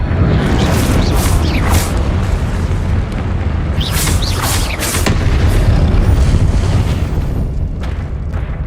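Confringo spell blasting in Hogwarts Legacy, heavy rumbling booms layered with sharp whooshing bursts, loud and continuous throughout with no talk.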